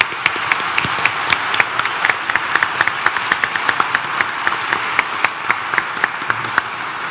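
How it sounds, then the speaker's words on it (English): Audience clapping after a theism versus atheism debate speech, crisp individual claps standing out over a steady applause bed, sustained and fairly close, no voices over it. "You got to give David another round of applause"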